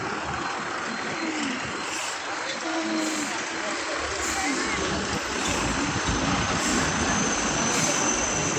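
A train runs past at close range, its wheels squealing on the rails over a steady loud rumble of railcars that lasts throughout, with some voices underneath.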